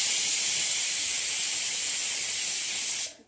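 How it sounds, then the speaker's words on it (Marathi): Steam hisses from a pressure cooker whistle in a home kitchen, a loud, close, steady high hiss holding for about three seconds before cutting off abruptly. "आता आपल्या कुकरची शिट्टी होते बघा,"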